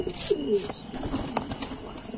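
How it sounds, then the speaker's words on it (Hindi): A pigeon suffering from paralysis flaps and scuffles close by, with soft coos and rustling bursts of wings in quick, uneven spurts. "छटफटा रहा है कबूतर"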